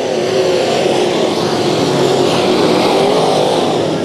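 Sport modified race cars at Bakersfield Speedway roar past as a pack on the front stretch, a loud continuous engine drone that holds steady throughout with no talk.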